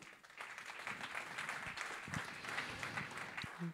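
An audience at an awards ceremony in Gers, France, applauds steadily, a dense wash of many hands clapping at even loudness for several seconds.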